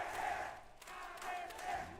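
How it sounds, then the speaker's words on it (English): Arena crowd at a Valorant esports match roaring and chanting in rising and falling swells, with a commentator's voice faintly over it. "You can hear the crowd rallying behind them"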